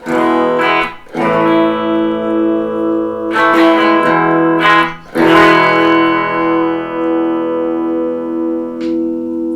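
A Harley Benton DC kit electric guitar plays on its bridge pickup through distortion, loud sustained chords struck several times, each ringing out before the next strum, alone with no talk.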